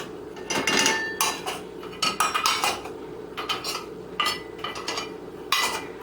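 Knives, forks and dishes clatter and clink as they are set into a dishwasher rack, several bursts of rattling contact close by, separated by brief pauses, with no talking.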